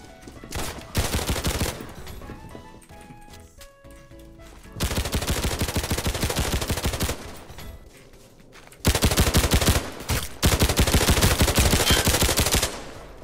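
Gunfire in the video game Roblox Criminality, loud rapid automatic bursts in three long stretches separated by quieter gaps with faint tones, close and dense.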